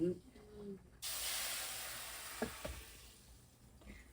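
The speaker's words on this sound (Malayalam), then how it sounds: "കടുക് വെച്ചെടുത്ത് അതിന്റെ ഈ സൗണ്ട് ഇല്ലേ" Mustard seeds spluttering in hot oil, a steady bright sizzle that starts abruptly and holds, with a few faint pops and light clatter in a home kitchen, quiet overall.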